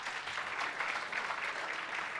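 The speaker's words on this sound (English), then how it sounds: "Can you give them a round of applause?" An audience at a university excellence awards ceremony claps for the award winners, a continuous wash of many hands at moderate loudness, even and unbroken throughout.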